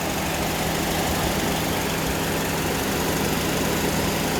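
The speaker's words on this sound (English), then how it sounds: "And the compressor starts turning." Car air conditioning compressor running under the hood: a loud, continuous, even mechanical drone with engine hum, close up and without talk.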